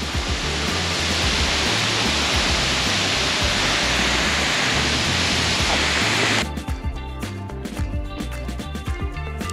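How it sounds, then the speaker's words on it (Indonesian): Sendang Gile waterfall on Lombok roars as a dense, steady wash of rushing water, close and loud, before the sound shifts and thins partway through. "Itu adalah Sendang Gile Waterfall."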